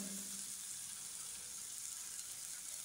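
Curry masala powder fries in oil in a pan, giving a soft, even hiss that holds steady throughout with no voices.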